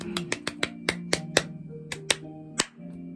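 Scattered, sparse claps ring out one at a time in an irregular rhythm, fairly close and crisp, over a steady low tonal hum.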